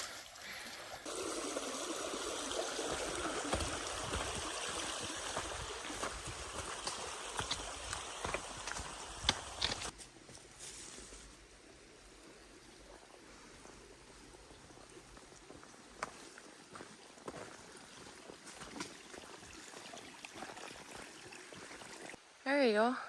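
Creek water trickles and burbles over rocks at a campsite, a steady close wash with scattered clicks and knocks in the first half, then softer flow, ending with a brief louder burst.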